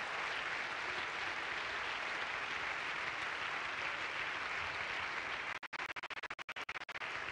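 An audience applauds to welcome a guest onto the stage at a women's parliament event in France: dense, even clapping from a large crowd that fills the hall at moderate volume, then breaks up into scattered claps near the end.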